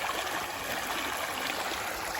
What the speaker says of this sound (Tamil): அழகாக தண்ணி போயிட்டுருக்கு.